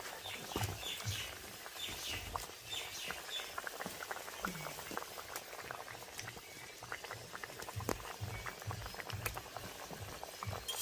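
Fish curry broth bubbling in a covered pot, a steady stream of close, soft blub-and-pop boiling sounds with irregular small bursts throughout, moderately quiet with no talking.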